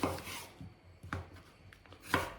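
A knife cuts through an onion into half-rings on a board, giving three sharp, separate chopping strokes spaced unevenly, close and moderately loud against a quiet room.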